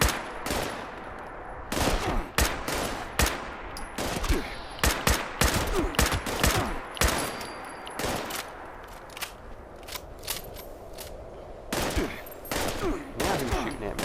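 An enemy fires at the player in Fallout 76 inside a ruined raider base overrun by Scorched, sending out sharp gunshots in irregular clusters and short bursts, loud and close, with quieter gaps between volleys.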